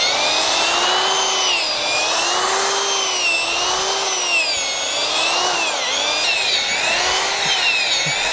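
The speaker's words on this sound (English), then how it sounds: "the drill just will basically go deeper and deeper until it gets stuck" A power drill turns an auger boring deep into the ground, its whining motor pitch rising and sagging in slow waves under load, loud and continuous with no voices.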